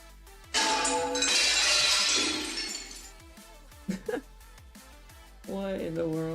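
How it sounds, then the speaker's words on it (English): A loud breaking-glass sound effect: a sudden crashing shatter that rings for a couple of seconds, then a few sharp clinks and a tonal after-sound, with no voices. "Breaking glass."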